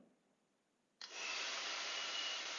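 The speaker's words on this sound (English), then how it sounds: "let's try a hairdryer test" After a second of near quiet, a hair dryer switches on abruptly and keeps up a loud, steady whooshing roar.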